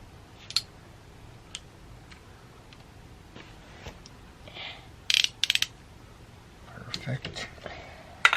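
A socket wrench ratchets on a Harley Road Glide primary cover. Faint scattered clicks give way to a short, sharp cluster of ratcheting midway, then further light clicks, with quiet talk in the background.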